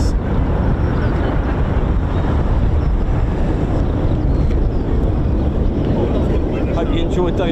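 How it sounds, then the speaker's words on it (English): Military jets taking off at an airshow during a VE Day commemoration, a loud, continuous broadband roar with heavy wind buffeting on the microphone, holding steady throughout. "Hope you enjoyed those takeoffs."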